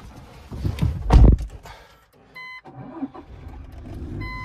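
A Toyota Hilux Invincible double cab pick-up starts up from inside the cab, a loud cranking surge that catches, followed by quieter engine idle and chimes from the dashboard.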